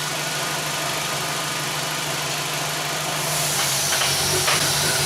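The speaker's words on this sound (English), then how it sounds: "now the engine is misfiring right now" A 2001 Audi Quattro engine runs with a misfire while smoke is being pushed through it, giving a steady, loud, hissing mechanical drone close by, with no talking.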